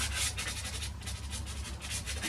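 Pastel rubs steadily over paper, filling in a sunlit sandy beach area in rhythmic, close scratchy strokes with no talking.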